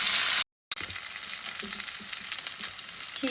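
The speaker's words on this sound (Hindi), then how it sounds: "अब हम लोग इसको बस 4-5 मिनट के लिए ही और फ्राई करेंगे।" Browned tandoori chicken pieces frying in a pan on a gas stove make a steady close sizzle and crackle, broken by a short gap of silence before the hiss picks back up, with no talk over it.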